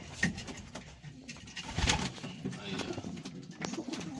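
Pigeons cooing around their nests, with a few soft coos and some bird calls rising over a busy, rustling background while people talk nearby.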